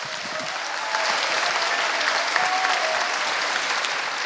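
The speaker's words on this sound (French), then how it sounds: "Un tonnerre d'applaudissements pour nos intervenants" Audience at a round-table forum on saving the oceans breaks into sustained applause, a dense even wash of clapping that swells after the first second and holds steady.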